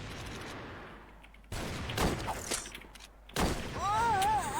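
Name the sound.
gunfire in a shooting video game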